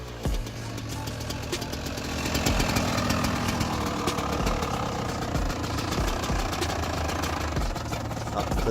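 Yamaha YZ 125 two-stroke motorcycle engine running at a steady, rattly idle, close and fairly loud, with a slight rise partway through and no talking.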